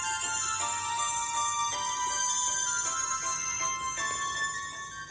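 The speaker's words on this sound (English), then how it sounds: "Okay, Christmas ringtone." A Christmas-themed phone ringtone plays continuously, a bright, steady electronic melody with bell-like tones repeating in a regular pattern, loud and close with no talking.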